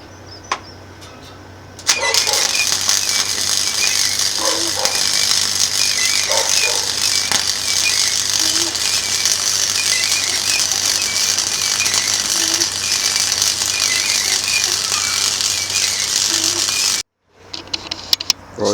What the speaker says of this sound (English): I'll just cut out the centre and just going to use that as a fire pit